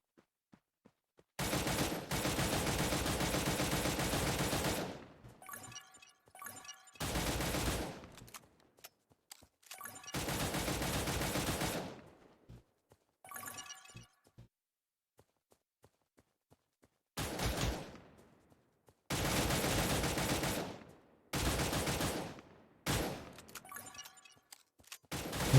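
Automatic gunfire from the video game Cyber Hunter, in long sustained bursts separated by silent gaps, loud and close, with shorter shots and clatter between the volleys.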